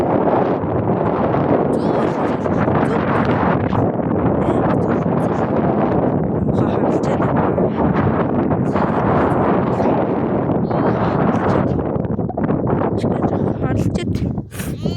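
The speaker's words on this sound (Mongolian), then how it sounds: "Зөөлхөн салхитай." Wind gusts across an open outdoor setting, a continuous rough rumble buffeting the microphone throughout, with voices faintly mixed in.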